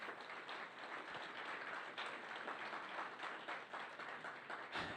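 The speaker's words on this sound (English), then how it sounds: "so let's give the Governing Board a round of applause." An audience at a school district governing board meeting gives a sustained round of applause, faint and distant, a steady wash of many hands clapping.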